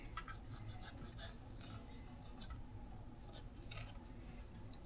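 A knife slices the top and core off a tomato during home canning prep, quiet crisp cutting and scraping strokes repeating close by in a calm kitchen.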